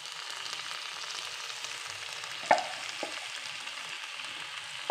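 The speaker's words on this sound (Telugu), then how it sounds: "సో పాస్తా యాడ్ చేస్తాను ఇప్పుడు నేను దీనికి." Millet pasta tipped into a pan of fried masala and stirred, giving a steady soft sizzle with a couple of sharp clinks of a utensil against the pan.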